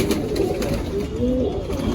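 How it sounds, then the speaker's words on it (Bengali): A female pigeon coos close by in a short, soft burst, a low throaty warble over a quiet room background. "মাদি পায়রা।"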